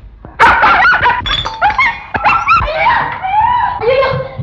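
A dog in a Tamil film scene barks and yips rapidly in a loud, close, continuous burst with whining, high-pitched tones throughout.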